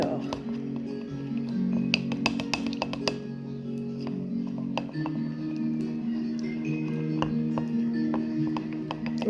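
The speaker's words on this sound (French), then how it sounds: "Alors, vous mélangez l'huile d'olive et le miel." Olive oil and honey being stirred together in a glass container, with repeated light clinks and ticks of a utensil against the glass over a low background murmur.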